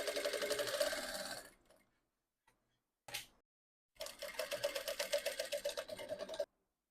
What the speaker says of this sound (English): then sew this part down in place